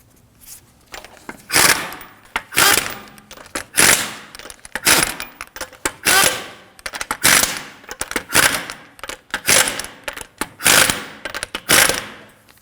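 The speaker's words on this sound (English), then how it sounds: "Now, snug down the lug nuts." An impact wrench rattles in repeated short bursts, snugging down the wheel lug nuts on a 2013-2015 Subaru XV Crosstrek, each loud chattering burst separated by brief pauses, close up with no talking.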